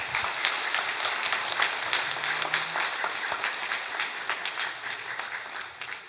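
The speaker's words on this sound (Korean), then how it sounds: "박수 한번 칩시다." Sustained applause from a church congregation at a night prayer retreat fills the room, a dense, even wash of clapping from many hands that holds steady and eases slightly at the end.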